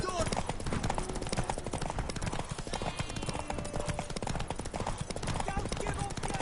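Galloping horse hooves during a race in The Witcher 3, a fast continuous drumming of hoofbeats mixed with voices and game sound throughout.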